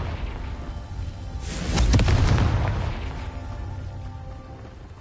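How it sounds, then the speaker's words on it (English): A Confringo fire-blast spell explodes in the Hogwarts Legacy game, a single loud booming burst that swells and fades over a second or so against quiet ambient background. "Confringo!"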